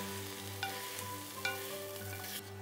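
Onions simmering in orange juice in a pot on the stove, giving a steady soft sizzle and bubble with a constant low hum beneath and a few faint scraping stirs.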